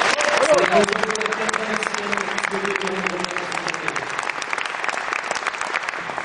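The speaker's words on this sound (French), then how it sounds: "Et je voudrais qu'on applaudisse très fort que Lelouch qui a vraiment le courage d'aimer" Audience applause at a film festival in Valenciennes, a dense steady wash of many hands clapping with a voice speaking over the start, fading slightly toward the end.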